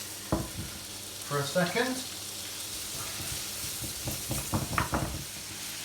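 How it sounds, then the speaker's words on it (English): Sliced meats frying in a pan during a Spanish frittata cook-along, a steady broad sizzle running throughout under a man's brief speech, with a few scraping stirs, close-up. "We've got the sliced meats, so that's going to go in there. I'm just going to let that fry off"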